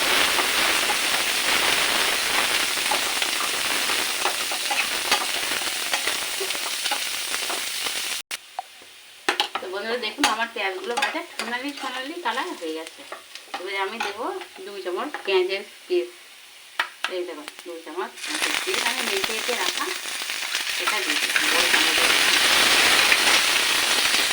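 Chopped onions fry in hot oil for a chicken roast, a dense crackling sizzle that drops away midway while someone talks, then surges back loud and steady.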